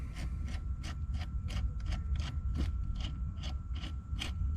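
A billet shift knob being screwed onto a Focus ST shifter: a steady run of quick, regular ratcheting clicks and metallic rubbing, close and fairly quiet, with no talk.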